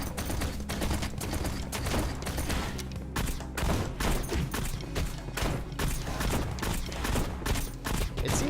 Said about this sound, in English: especially now that we got the submachine gun